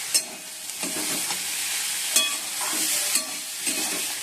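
Carrots, beans and onion fry in a pan with a constant close sizzle, punctuated by a few sharp scrapes and taps of a spoon stirring against the pan, and no one talking.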